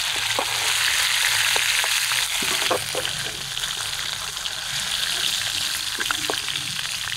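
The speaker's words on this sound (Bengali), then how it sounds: "এবার নামিয়ে ফোড়নে আলুগুলো দিয়ে দেবো।" Potatoes go into hot oil already used for frying fish, with spice tempering, while cooking a large river baim fish curry; a constant close sizzle runs throughout, broken by scattered small crackles and pops, with no talking.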